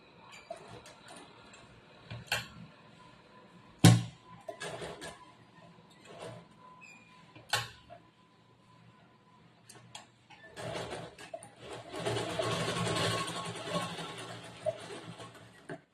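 A sewing machine stitches a blouse lining in a quiet room, with scattered ticks and handling clicks before a steady whirring run of stitching near the end.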